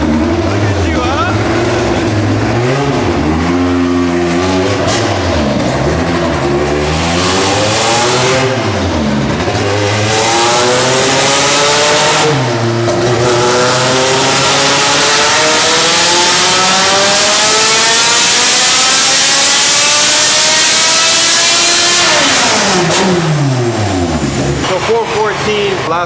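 A 400 hp all-motor K-series Honda Civic engine revs hard and loud during a pull, the pitch climbing and dropping through several rises before a long sustained high-rpm wail that then falls away.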